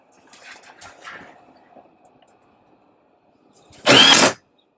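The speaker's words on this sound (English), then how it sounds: "drilling holes for the lights" Faint rattling and handling noises, then a brief loud burst of a power drill boring holes into a ceiling for lights near the end, lasting under a second.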